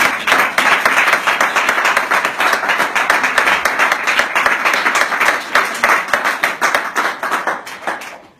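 A church congregation claps in acclamation during a worship service, a loud, sustained wash of many hands with crisp individual claps standing out, continuing steadily before tapering off at the end.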